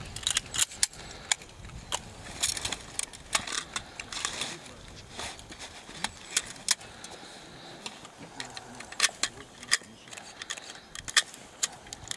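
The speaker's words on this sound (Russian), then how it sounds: "Вы разряжаете сброю." An assault rifle is unloaded during Ukrainian military drill in the Dnipropetrovsk region, producing a dense run of sharp metallic clacks and rattles close by, irregular and busy throughout, over low background noise.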